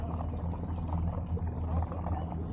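Water gushing up through a hole in a crystal-clear, ankle-deep natural spring, a continuous churning bubble and rush close by with no talk over it.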